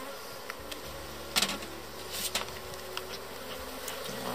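Honeybees swarm and buzz steadily around an open hive during a colony inspection in a steppe apiary, a dense continuous drone with a few louder passes of bees flying close by.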